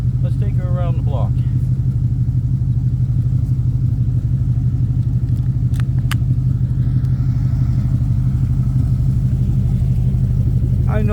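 A 1992 Dodge W250 truck's engine and exhaust rumble steadily and loudly throughout while driving around the block, a constant low drone with brief speech-like sounds near the start and end.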